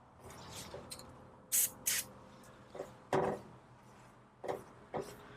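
Short aerosol sprays of lubricant hit the joints of a screen door, several brief hissing bursts spaced apart over quiet handling noise.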